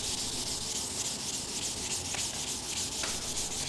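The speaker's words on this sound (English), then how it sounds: "Whenever you're sanding without a block, make sure that your hand's going into a side-to-side motion" Steady hand sanding, a continuous gritty rubbing hiss with a rhythmic back-and-forth texture, close and constant with no talking.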